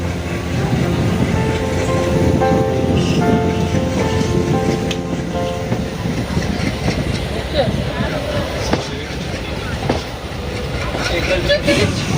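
An Indian Railways train of the South Eastern Railway pulls into Puri station with a loud, continuous rumble and rhythmic wheel clatter on the tracks, a dense roar throughout, with voices audible in the background.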